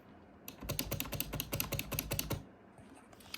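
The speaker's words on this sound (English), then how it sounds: "Keys are relatively quiet" Keys on a programmable RGB gaming keyboard click in a fast, steady run of close typing strokes for about two seconds, then stop.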